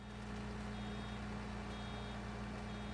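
Reversing beeps from a truck in the Farming Simulator 19 video game, a steady repeated electronic tone over a constant low engine drone, loud and continuous with no talk.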